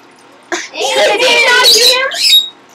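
A shrill, warbling lovebird squawk, loud and close, rising and falling over about two seconds.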